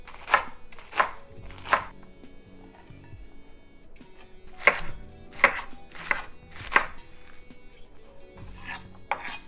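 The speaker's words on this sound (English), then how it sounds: "I'm going to start by chopping up all this lettuce." A knife chops lettuce on a cutting board in sharp, crisp strokes, first three quick cuts, then a pause, then a steadier run of chops.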